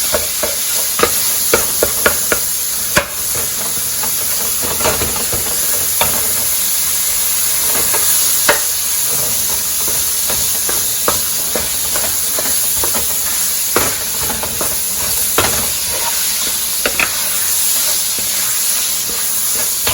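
Ground beef browns in a pan under a constant loud hiss and sizzle, while a utensil scrapes and clacks against the pan in irregular strokes throughout, close and uninterrupted by talk.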